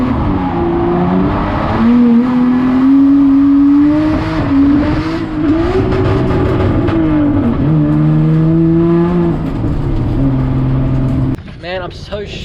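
A Nissan S14 with an RB25DET engine bangs off the rev limiter in third gear while drifting, a loud, sustained, stuttering high-rpm wail that wavers in pitch before cutting off near the end.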